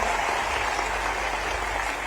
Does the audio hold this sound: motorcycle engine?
no